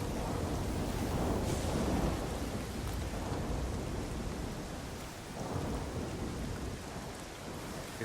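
Heavy rain pours and thunder rumbles in the video game Nioh, a dense hiss of rainfall with low rolling swells of thunder rising and easing throughout.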